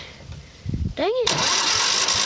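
A lawn mower engine cranks with a rising pull-start whine and then catches, roaring loudly and steadily up close, after a moment of faint talk and fumbling.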